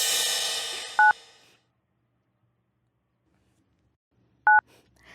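Two short telephone keypad tones beep apart from each other, crisp and close, the first just after a burst of noise and the second following a long silence.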